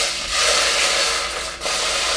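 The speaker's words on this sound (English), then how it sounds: "get a little water, and it's gonna sizzle." Water hitting a hot pan before ground turkey goes in, giving a steady, close hiss of sizzling steam that swells and dips slightly throughout.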